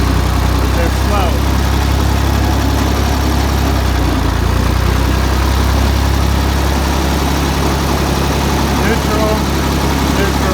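A Ford 2000 tractor engine runs steadily at a low, heavy idle, its deep rumble and vibration constant and close throughout with no pauses.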